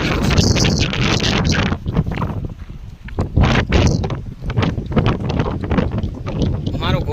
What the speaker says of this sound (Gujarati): એટલો પવન છે.